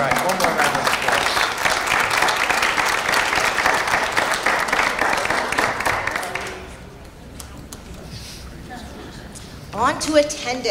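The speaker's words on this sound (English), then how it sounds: "All right, one more round of applause." Applause from an audience at a school board of education meeting, a dense sustained round of clapping that fills the room for about six seconds, then drops away to quiet murmuring before a brief burst of scattered claps near the end.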